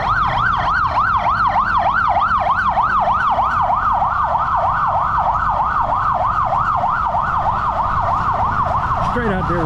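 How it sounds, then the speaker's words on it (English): An ambulance siren wails loudly and continuously on a street in Angeles City, its pitch sweeping up and down in a rapid, regular cycle, close by with traffic noise underneath. "Comes an ambulance."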